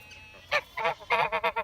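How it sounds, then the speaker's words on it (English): Geese honking on a farm with ducks and a horse nearby, a run of about six loud nasal honks in quick irregular bursts, close by. "We got ducks here, geese."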